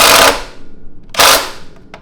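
An impact gun loosens a bolt on the nerf bar of a YZF 450 dirt bike in two loud rattling bursts, each about a quarter second, followed by a short faint tap.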